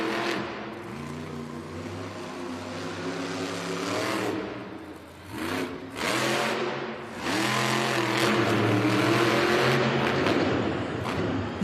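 El Toro Loco monster truck racing around an indoor arena at a Monster Jam racing event in Cleveland: a loud, sustained engine roar that revs and dips through the corners, then surges again on the straights.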